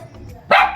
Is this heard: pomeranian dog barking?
yes